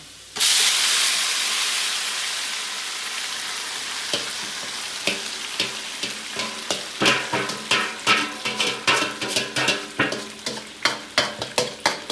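Menudo ingredients, including pork, are dropped into very hot oil and burst into a loud sizzle, then are stirred with a run of rhythmic scraping strokes over continuous frying hiss.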